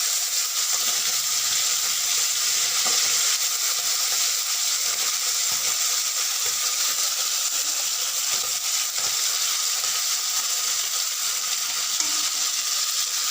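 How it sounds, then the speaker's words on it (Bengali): Bele fish fry in oil in a pan with a dense, steady sizzle and hiss, punctuated by faint clicks and small pops throughout. "এক পিঠ ভাজা হয়ে গেছে, তাই মাছটাকে উল্টে দিলাম"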